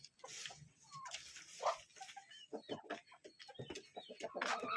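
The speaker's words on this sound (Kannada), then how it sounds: "ಇಲ್ಲೊಂದು ಕೋಳಿ ಕಾವಕ್ಕೆ ಕೂತಿದೆ, ಕಚ್ಚುತ್ತೆ ನೋಡಿ" A brooding naked-neck country hen on a farm clucking and grumbling close by, short irregular clucks and squawks with faint background birds and rustling.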